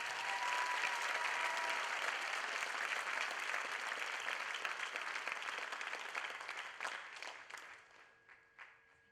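An audience at a 4-H state officer campaign rally claps in sustained, dense applause that holds steady, then thins out and dies away into a few scattered claps near the end.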